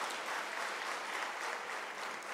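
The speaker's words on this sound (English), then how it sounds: "I think you need to give him a round of applause yourselves." A University of South Africa graduation ceremony audience applauding Nelson Mandela, an alumnus, with a steady, even wash of many hands clapping at moderate distance, fairly quiet and unbroken, with no one talking over it.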